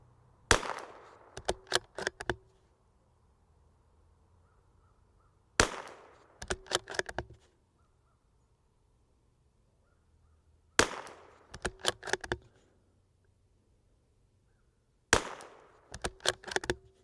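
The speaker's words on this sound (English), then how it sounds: "we're gonna just start shooting groups here" Tikka T1x MTR .22LR rifle fired outdoors in four separate groups of sharp, close shots, each a quick cluster of four or five cracks followed by a few seconds of quiet.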